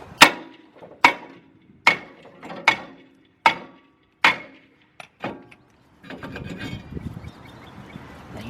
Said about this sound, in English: Okay, got the big hammer.